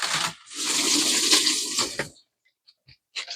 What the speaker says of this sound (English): Put some water up on the top here.